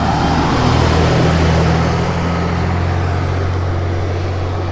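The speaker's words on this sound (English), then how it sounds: "I'm gonna cross over after this truck goes by" A truck passes along a road nearby, a loud low rumble that swells and then slowly fades away.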